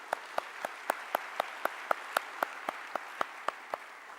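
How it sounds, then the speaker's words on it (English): Sparse, steady clapping at an awards ceremony, with individual claps spaced about a quarter second apart and ringing through a large room, fairly quiet and carrying on without any voices. "Could we have a huge round of applause for them?"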